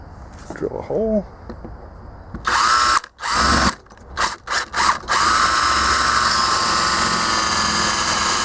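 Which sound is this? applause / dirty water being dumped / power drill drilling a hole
power drill drilling a hole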